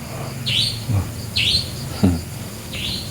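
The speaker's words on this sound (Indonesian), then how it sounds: "Itu burung apa?" A bird near a river repeats the same sharp, descending high call four times at a steady pace, with a soft low hum running underneath.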